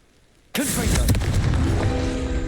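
A Confringo spell explosion in Hogwarts Legacy bursts in suddenly with a loud boom. Crackling debris and a rumbling, ringing decay follow and keep sounding to the end. A voice is heard alongside the blast.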